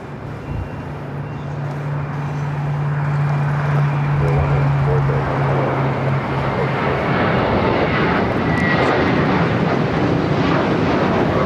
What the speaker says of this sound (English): It's United 737-900ER coming in from Denver.